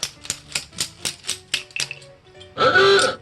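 A bent metal washer from a mud mower wheel being beaten with channel lock pliers: about nine sharp, close metallic taps in an uneven rhythm, ending in a brief burst of louder clattering.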